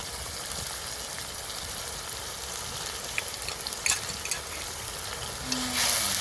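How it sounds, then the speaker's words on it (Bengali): A spice masala of turmeric and coriander powder with salt fries in oil in a pan, giving a continuous close, even sizzle with a few light stirring clicks near the end. "মশলাটাকে খুব ভালোভাবে কষিয়ে নিব"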